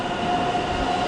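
A regional double-decker train at Köln Hauptbahnhof gives off a steady, fairly loud rolling rumble with a thin sustained tonal whine, heard briefly on its own.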